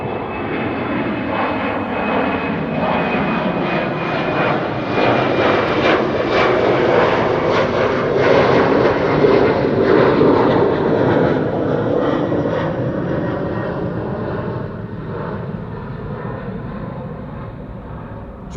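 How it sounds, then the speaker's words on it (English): A German Airways jet flying for KLM takes off at Amsterdam Schiphol, a broad, powerful engine roar that swells to a peak mid-way and then slowly recedes into the distance, with no voices. "German Airways flying on behalf of KLM, in the meantime taking off"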